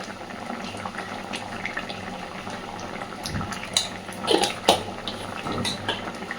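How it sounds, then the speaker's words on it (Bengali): Potol kofta curry bubbles gently in a pan, a steady low simmer with soft bursting bubbles and a few brief clinks of utensils against the pan near the end. "কোফতাগুলো দিয়ে একটুখানি ফুটিয়ে নিয়েছি।"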